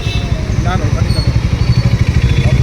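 A motorcycle idles with a steady, loud low rumble in a pulsing rhythm, a radiator fan whirring along with it, on a busy street near the Hasta Shilpo Mela winter festival in Kolkata.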